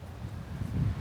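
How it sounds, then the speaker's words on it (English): Wind blows across an open outdoor street in Boa Vista, Cape Verde, a soft low rumble of buffeting that swells slightly toward the end, with no voices. "It's windy"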